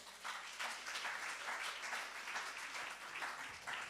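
A congregation claps together during a Sunday celebration service in church, a steady, faint wash of applause with gently swelling bursts and no voices on top.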